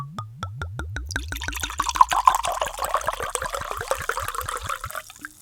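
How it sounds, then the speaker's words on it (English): White wine glugs from a bottle into a glass, rapid rhythmic gurgles that start distinct and blur into a continuous close pour before trailing off. "Time for the pour."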